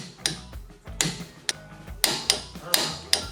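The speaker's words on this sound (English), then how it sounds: "with our wheel bearing bolts reinstalled, we're going to torque them down to 75 foot-pounds" Jeep Wrangler JK front wheel bearing bolts being torqued to 75 foot-pounds with a torque wrench: a run of sharp metallic clicks and ratchet snaps, about seven distinct hits spaced roughly half a second apart, close up with no talk.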